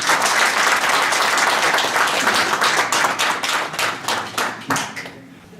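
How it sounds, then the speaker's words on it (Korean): An audience applauds a lecturer being welcomed at a business forum, a dense, loud burst of many hands clapping that thins into scattered claps before fading out. "큰 박수 부탁드립니다."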